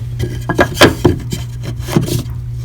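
A wooden 1x3 board is slid into a hole in drywall, producing a series of close, short rubbing and scraping knocks over a low steady hum.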